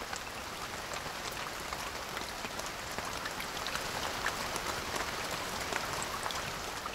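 Steady rain falls in an equatorial tropical rainforest, an even, dense patter of drops on leaves and surfaces with no pauses and no voices.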